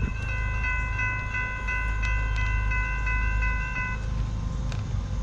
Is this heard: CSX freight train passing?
yes